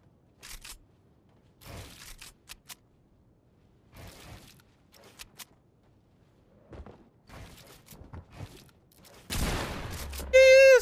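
Gunfire in the video game Fortnite comes as scattered sharp shots and short bursts separated by gaps, then a dense, loud volley and game effects near the end.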